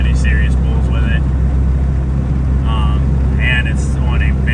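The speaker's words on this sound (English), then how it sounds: "Car's still warming up, so definitely not doing any serious pulls with it." Honda car engine idling while warming up on an off base tune, a steady low rumble running throughout with a person talking over it.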